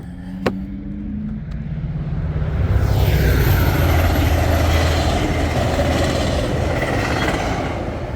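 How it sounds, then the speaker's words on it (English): A train rumbles past close by, a loud sustained roar that builds and holds, with a faint click at the start. "bye-bye train, thanks for interrupting the video."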